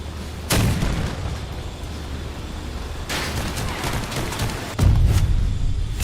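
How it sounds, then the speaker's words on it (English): Cannon blasts in a multiplayer faction-based video game, three heavy booming shots spaced a couple of seconds apart over a steady, noisy game background. "I shot him in the face with a cannon."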